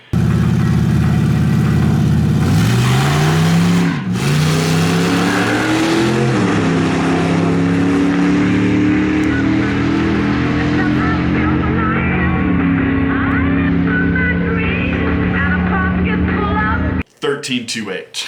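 A Chevrolet S-10 drag car launches and accelerates hard down the strip, its loud engine rising steadily through the gears with a gear change partway, close and continuous before cutting off abruptly near the end.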